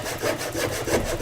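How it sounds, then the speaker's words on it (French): A hand saw rasps steadily through a cardboard tube, laid flat for the cut, in repeated back-and-forth strokes that sound close and fairly loud. "on débute le sciage à plat."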